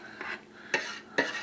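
A spoon stirs a one-pot sausage and spinach casserole, giving three distinct scraping strokes against the pot over a soft background hiss, close and moderately quiet.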